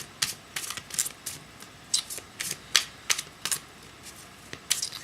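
Cards being shuffled by hand, a series of quick crisp riffles and snaps in an irregular rhythm, close and fairly quiet.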